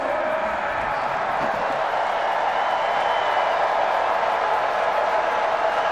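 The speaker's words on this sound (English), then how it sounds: "the boisterous NC State crowd getting loud" A boisterous NC State college football stadium crowd roars steadily and loudly on fourth and ten against Marshall, a dense sustained wash of cheering and voices with no letup.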